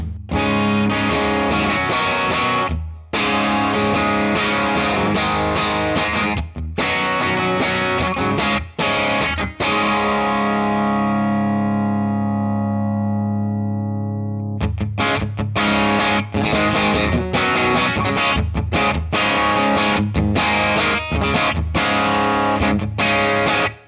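Electric guitar on the bridge pickup through a modeled Morgan AC20 Deluxe amp with mild distortion, strummed chords ringing out, one long sustained chord fading before the playing resumes.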